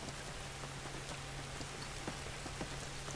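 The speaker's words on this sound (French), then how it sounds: "Cette pluie ne va pas nous aider." Steady, dense rain pours down in the video game The Last of Us, a constant hiss with scattered drop taps and a low hum beneath, with no voices.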